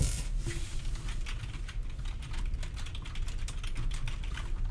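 Rapid, continuous typing on a computer keyboard, close and fairly quiet, a steady patter of key clicks with no voices.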